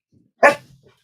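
A single sharp dog bark, close and fairly loud, ringing out alone in an otherwise quiet room with only faint low rustling around it.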